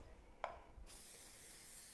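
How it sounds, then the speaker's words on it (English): Cooking spray from a can misted onto chicken cut down the middle for a chicken curry, a brief tap followed by a steady, fairly loud hiss that carries on to the end. "give it a good spray of the cookie spray"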